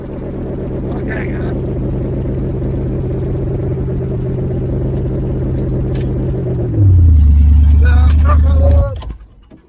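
A 1980 Camaro Z28 V8 fitted with a new knock-off Holley four-barrel carburetor idles with a loud, throbbing rumble, then drops into a deeper, heavier lope before the engine cuts off and goes quiet.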